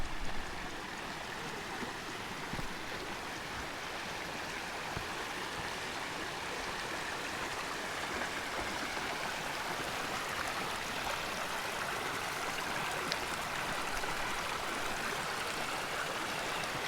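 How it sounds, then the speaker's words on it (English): A mountain stream on a high alpine trail flows steadily, a continuous broadband rush of water with gentle gurgling, close and constant throughout with no talk over it. "There's this really pretty stream."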